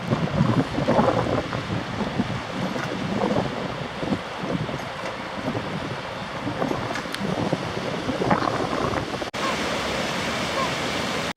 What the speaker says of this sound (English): Just coming up with a span over the river. There's lots of rapids there.